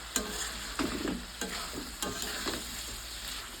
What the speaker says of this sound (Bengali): তাহলে দুটো কাজ একবারে হবে মাংস কষতে জল দেওয়া হবে